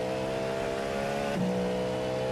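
A V8 race car engine in the iRacing sim racing game drones steadily at moderate volume, with a brief pitch dip partway through as the car shifts or lifts.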